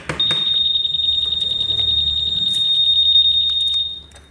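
A piercing, steady high-pitched electronic anti-theft alarm tone from a Honda PCX 160 motorcycle sounds continuously for several seconds, loud and close, then stops abruptly.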